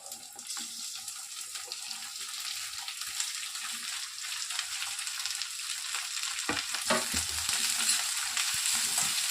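Chopped onions and capsicum frying in a pan for chilli paneer, a steady bright sizzle with scraping stir strokes that grows slightly louder toward the end, close and without talk.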